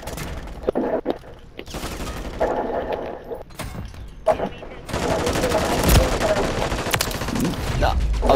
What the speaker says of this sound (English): I'm shooting you, bastard!